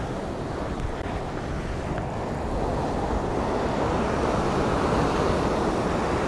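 Ocean surf surges in against the rocks of a Sydney rock-fishing spot, a continuous loud roar of breaking water that swells toward the end, with heavy wind buffeting the microphone throughout.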